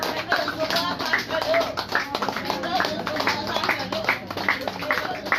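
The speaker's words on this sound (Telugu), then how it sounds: "గట్టిగా క్లాప్స్ కొట్టండి అమ్మ అందరూ కలిసి" A small audience at an Ambedkar birth anniversary celebration in an old-age home claps steadily and fairly close, while a voice speaks over the applause.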